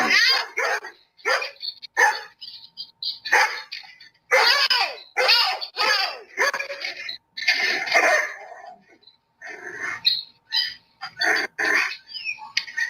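Dogs bark and snarl repeatedly at close range in loud, choppy bursts, with growls running between the barks.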